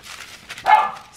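A dog indoors barks once, a fairly loud, short bark standing out over soft room noise, with faint sounds around it.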